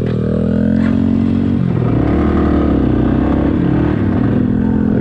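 Dirt bike engine riding through sand, loud and close, holding a steady droning rev that rises and falls slightly as the rider moves, with no talking.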